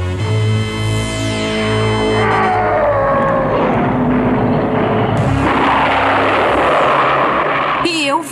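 He-Man's Wind Raider flying vehicle in a cartoon, a loud whooshing aircraft roar with sweeping, swooping engine tones and a strong surge midway, mixed with music and a voice.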